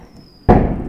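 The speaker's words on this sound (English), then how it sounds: "Whoa! That was a gigantic bang" Firework bang during a New Year celebration in a video game, a single loud sudden blast after a faint high tone, followed by a short crackling decay.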